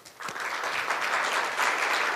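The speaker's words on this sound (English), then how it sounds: "let's welcome most speakers with a warm round of applause" Seminar attendees at a joint economic research conference give a warm round of applause, moderate and steady clapping from a hall of people that builds slightly and continues throughout.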